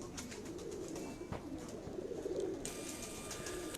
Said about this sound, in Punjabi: ਦੋਸਤੋ ਇਹ ਕਬੂਤਰੀ ਹੋ।